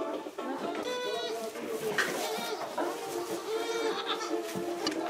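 Several farm goats bleat, one of them while giving birth. The close, repeated bleats overlap with one another throughout.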